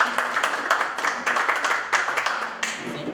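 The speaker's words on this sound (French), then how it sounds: "On applaudit pour la session." A studio audience at a Congolese music talk show breaks into applause, a close, steady patter of clapping with rhythmic peaks that tapers slightly near the end of about three seconds.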